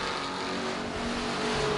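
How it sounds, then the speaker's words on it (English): A stock race car in a Hoosier Stock feature race roars around an oval track, a loud, dense and unbroken engine drone. "A pretty dominant race car this weekend, and going to be a pretty happy guy as he turns through turn number 4."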